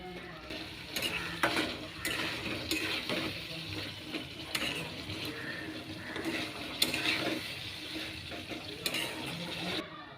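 Chicken and pre-fried potatoes are stir-fried in a pan: a busy, close sizzle runs throughout, while repeated scraping strokes of a spatula set up an uneven, rattling rhythm.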